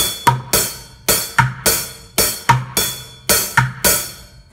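Bucket drum groove mixing deep center bass hits with sharp rim snare strikes and lighter upbeat taps, a lively repeating pattern played solo and close.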